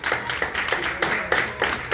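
An audience claps together in a steady, even rhythm of sharp hand claps, roughly three per second, moderately close and with no talking.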